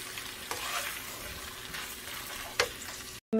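Chicken spaghetti with vegetables tossed and stirred in a hot pan, a steady close sizzle broken by a few utensil scrapes and a brief clatter near the end, with no talking.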